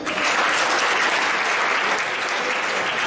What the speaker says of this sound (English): I want you to clap for them.